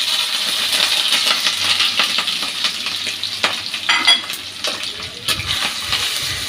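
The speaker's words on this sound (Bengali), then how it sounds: "এগুলো একটু ভেজে নিই।" Chopped onion, garlic paste and a little ginger paste frying in oil left from frying fish, a steady close sizzle with occasional spoon scrapes and stirring clinks against the pan.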